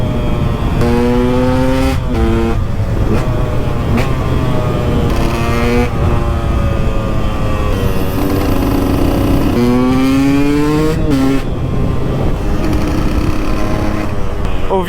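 A KTM 125 EXC two-stroke motorcycle rides along a coastal road, its engine loud and continuous throughout, with revs rising and falling in repeated pitch sweeps through gear changes, close to the rider and with no talk.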